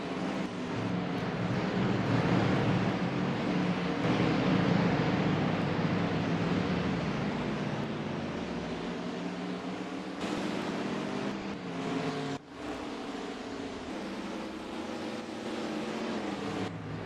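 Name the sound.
race cars on pit road in NASCAR Racing 2003 video game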